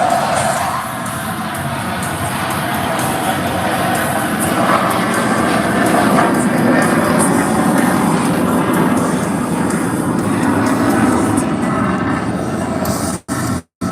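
A fighter jet performs at the Malta International Airshow over Qawra, its loud broadband roar filling the air steadily alongside a crowd, before cutting out abruptly at the end.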